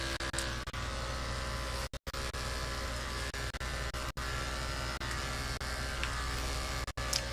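Electric dog clippers fitted with a number 1 comb buzz steadily while grooming a Maltese puppy's head and cheeks, a close continuous hum broken by a few brief dropouts.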